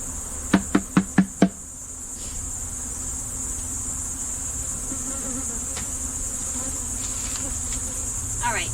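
Honey bees hum steadily around an opened hive, a soft continuous buzz close by, broken early on by five quick sharp knocks in a row.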